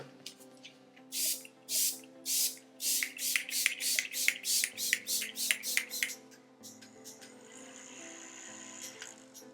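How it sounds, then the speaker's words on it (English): A quick series of about fifteen short, bright bursts of NYX makeup setting spray in a steady rhythm, close by, followed by a quieter hiss and faint shuffling. "we're gonna use the glue spray from NYX"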